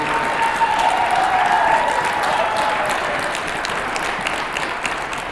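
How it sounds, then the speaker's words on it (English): A large round of applause from the audience at a fall jazz band concert, dense, even clapping that holds steady and then eases slightly toward the end. "let's give them another really big round of applause"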